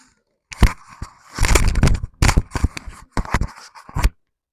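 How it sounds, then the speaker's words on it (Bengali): Scissors snipping away excess fabric at the neckline of a kaptan-collar kameez, heard as bursts of close, crisp cutting and rustling cloth separated by brief pauses. "এখন আমি বাড়তি কাপড়টা কেটে ফেলে দিচ্ছি"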